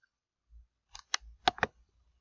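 Several quick, light keystrokes on a computer keyboard, a short uneven burst of crisp clicks, close and fairly quiet, with no voices.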